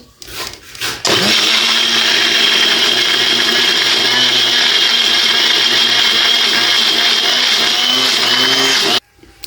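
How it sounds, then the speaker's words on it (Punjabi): An electric grinder blitzes ginger, garlic and green chilies for mustard greens saag: a loud, steady motor roar kicks in after a brief rattle, runs for about eight seconds, then cuts off abruptly. "ਪਹਿਲਾਂ ਇਹਨੂੰ ਕਰਦੇ ਆ ਗ੍ਰਾਈਂਡ ਸਾਗ ਦੇ ਵਿੱਚ ਪਾਉਣ ਲਈ"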